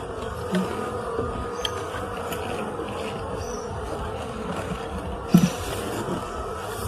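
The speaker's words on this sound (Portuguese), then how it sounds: "Quando ele deu a fumaça, as abelhas desceram" Honeybees buzz in a steady, close hum around the hive after being smoked, a continuous drone with a couple of brief louder knocks.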